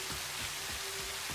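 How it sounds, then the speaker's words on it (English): Rain falling in the game Satisfactory, a steady, even wash of pattering drops at moderate volume, with no voices over it. "it's already starting to rain"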